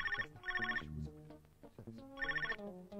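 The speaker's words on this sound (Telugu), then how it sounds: "సుబ్రహ్మణ్యం గారు మీకు ఫోన్." A telephone rings in two bursts of repeated electronic trills, with a pause between them, heard close and clear over quiet background sounds in an office setting.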